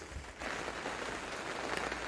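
Steady rain falling on a garden where tomato plants are being planted, the first rain after six weeks of dry weather; a dense, even hiss of drops with no talking.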